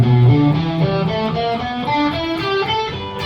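Guitar runs through a blues scale in the second box position, climbing and descending as a quick sequence of clear, evenly spaced single notes with sustained ring, played solo and close with no talking.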